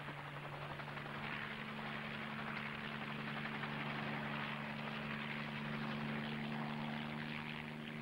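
An old Cessna agricultural aircraft flying at a 1999 ag-aviation reunion, its propeller engine a steady, moderately distant drone holding throughout with no voices.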